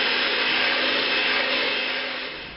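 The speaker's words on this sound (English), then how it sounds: "In a mixer fitted with a whisk attachment, you beat the eggs at medium speed until fluffy and light yellow" A stand mixer with a whisk attachment beats eggs at medium speed while making brownies, a steady, loud motor whir with a bright broadband whoosh that holds evenly for a few seconds before easing off slightly at the end.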